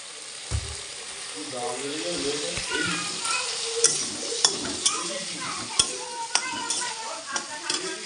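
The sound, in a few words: potatoes added to sizzling spiced masala and stirred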